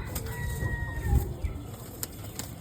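Pigeons being handled in a cage, including a nervous male, give soft coos and brief bursts of wing flapping, close by, with a few thumps as they shift about.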